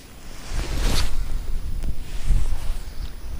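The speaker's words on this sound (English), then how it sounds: "You guys can hear that wind through the windsock." Gusty wind buffets an outdoor microphone fitted with a windsock during a baitcasting reel casting test in windy conditions, a broadband rumbling roar that swells and fades in loud surges for several seconds with no one talking.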